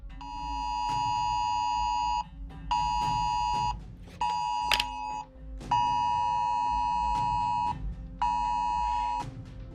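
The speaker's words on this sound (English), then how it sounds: "shows what emergency alert system messages look and sound like on two different iPhones" Emergency alert tones sound from two iPhones: five loud, steady electronic beep bursts, each about a second long, separated by short gaps and sitting above a low background hum, with no talk.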